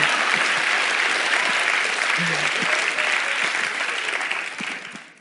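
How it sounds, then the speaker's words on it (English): Audience at a stage performance breaks into sustained, dense applause, loud and even, with faint cheering mixed in before it slowly tapers off near the end. "Yeah, clap for them, man."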